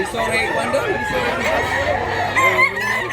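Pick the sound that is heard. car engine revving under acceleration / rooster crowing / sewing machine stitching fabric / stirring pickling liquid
rooster crowing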